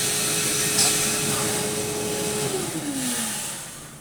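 A SOVDA coffee bean sorting machine runs with a steady, fairly loud whirring drone and a sustained tone that slides downward near the end, heard alone without talk.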